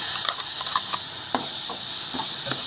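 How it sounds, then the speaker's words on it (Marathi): Tomato puree hits hot oil in a pan while cooking chana masala, giving a steady close sizzling hiss with a few brief crackling bursts. "आता ही टोमॅटोची प्युरी आपण घालूया"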